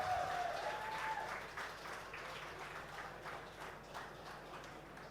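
Audience applause at a LAN gaming tournament, a faint, steady wash of clapping from a crowd, continuing evenly for several seconds with no talk over it.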